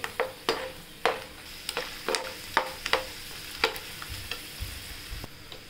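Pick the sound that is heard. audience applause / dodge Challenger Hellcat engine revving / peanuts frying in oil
peanuts frying in oil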